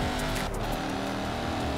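A race car engine in the video game Forza Horizon 4 roars loudly and steadily, holding a dense, continuous drone for the whole moment with no voices.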